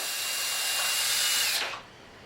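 A power drill whirs steadily for about one and a half seconds while backing screws out of the rear panel of a TV, then cuts off abruptly, leaving quiet room tone.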